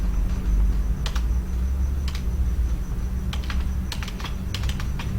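Keys tapped on a computer keyboard while working in AutoCAD, in several short bursts of quick clicks over a steady background hum.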